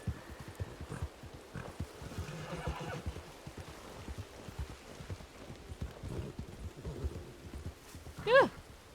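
A horse in Red Dead Redemption 2 roleplay clops along in a steady, faint hoofbeat rhythm, then lets out a brief sharp whinny near the end, over quiet background.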